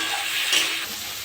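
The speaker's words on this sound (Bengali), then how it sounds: "এটা ভেজে নেবো।" Onion, chili, carrot, capsicum and tomato fry in a pan for chowmein while being stirred, giving a brief, steady close sizzle with a soft scraping swell midway.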